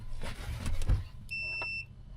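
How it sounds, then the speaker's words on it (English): A single steady electronic beep sounds for about half a second just after the wiring for an elevator bed in a van is connected, following some low handling thumps and rustles, close by and with no voices. "I heard a beep."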